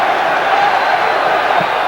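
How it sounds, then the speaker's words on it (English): Lyon supporters fill the stadium with a steady, loud roar during a 1995-96 UEFA Cup football match against Nottingham Forest, a dense crowd wash with no clear breaks. "Crowd very much with it now for Lyon."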